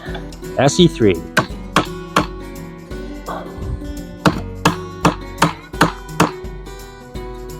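An ESEE bushcraft knife chops into a wood board in a series of sharp, close knocks, roughly one every half second, with a voice briefly heard near the start.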